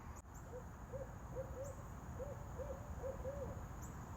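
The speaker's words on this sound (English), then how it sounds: "you guys hear that owl?" An owl hoots outdoors in a quiet setting, a string of soft, evenly spaced calls repeating for several seconds at moderate distance, with faint background hiss and no talk.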